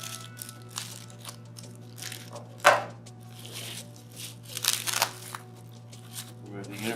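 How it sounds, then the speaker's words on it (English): A Honeywell EDA50 handheld unit is pulled from its packaging, giving quiet, intermittent plastic crinkling and rustling with one sharper crunch partway through and a cluster of rustles near the end. "remove the unit from its packaging"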